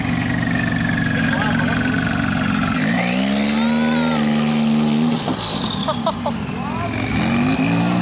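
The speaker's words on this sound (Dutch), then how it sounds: "Dat is die auto met de meeste kabaal." A loud car at a gathering of exotic sports cars revs hard, its engine rising and falling in pitch over a steady idle rumble, close and dominant throughout.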